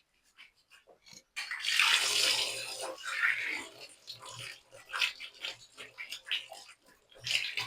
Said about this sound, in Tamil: இப்போ இது பார்த்தீங்கன்னா நல்லா தண்ணி ஊற்றுறேன்